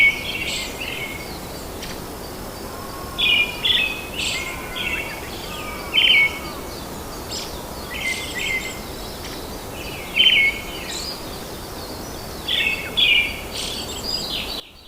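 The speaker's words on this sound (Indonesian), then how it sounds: "Bunyi burung elang ini teman-teman sangat keras dan melengking dan berulang-ulang antara 1 hingga 3 suku kata" A Javan hawk-eagle repeats shrill, high-pitched calls in short clusters of one to three notes, spaced every few seconds over a steady background of insects and forest ambience.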